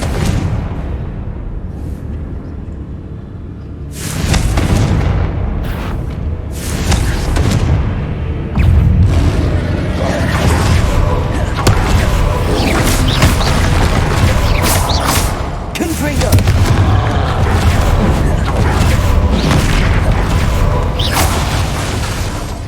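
Heavy booming blasts from the Confringo spell in Hogwarts Legacy erupt repeatedly over a dense, rumbling game soundscape, loud and close, with several sharp explosive hits spaced a few seconds apart.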